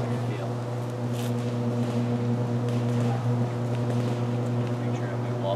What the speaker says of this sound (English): Feels just like that humming sound.